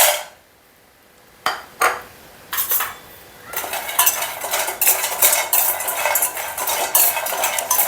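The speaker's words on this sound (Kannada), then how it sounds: "ಗ್ಯಾಸ್ ಆನ್ ಮಾಡಿ ಬಾದಾಮಿನ ಫ್ರೈ ಮಾಡ್ತೀನಿ." Almonds and other nuts stirred in a pan over a gas stove, with a utensil clinking and scraping against the pan in quick, irregular strokes after a few isolated knocks, close and clear with no talk.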